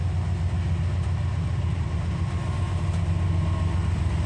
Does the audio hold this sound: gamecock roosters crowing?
no